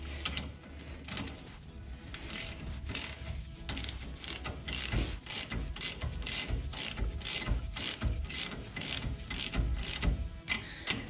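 A ratchet threads two 12 mm bolts into the brake of a 2004 Subaru WRX STI, clicking in a steady, rapid rhythm close up for the whole stretch with no talk.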